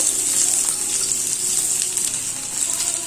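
Sliced onions hit hot oil in a pan, setting off a steady, bright hissing sizzle that holds evenly throughout, fairly close and without talk.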